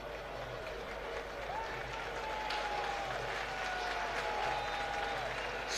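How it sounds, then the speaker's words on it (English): Football fans in a Ghana Premier League stadium applauding a top scorer, a broad crowd roar and clapping heard from afar beneath whistles and a steady background hum. "Some round of applause from the fans for the top scorer with 7 goals."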